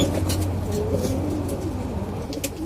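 Pet pigeons coo softly in a loft among their young, a few low repeated calls close by over faint background noise.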